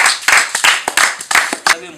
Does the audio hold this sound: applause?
yes